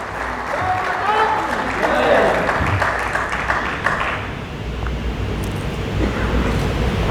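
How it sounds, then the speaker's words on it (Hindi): Audience applauding to welcome a speaker at the inaugural morning session of a Panchgavya medicine conference: a steady, dense wash of clapping across the whole stretch, with faint room murmur underneath. "तो एक बार जोरदार तालियों के साथ आपका स्वागत।"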